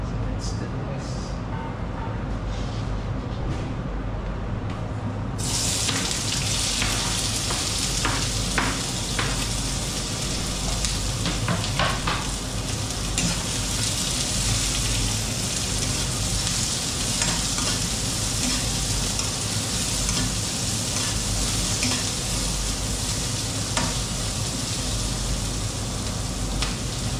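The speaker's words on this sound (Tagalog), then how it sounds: "So now it's already hot and I will put the onion." Onions for chicken masala hit hot oil, and a steady loud sizzle sets in after a few seconds, continuing with stirring scrapes throughout, no voice.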